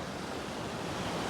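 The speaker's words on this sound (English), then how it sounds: "this water is so loud" Loud rushing water on a hike roars as a steady, dense wash of noise close to the microphone, with no break throughout.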